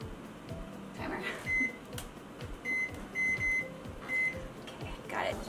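A kitchen timer beeps in short repeated bursts while lamb cooks, the beeps fairly faint over a low hum with faint voices and household noise in the room.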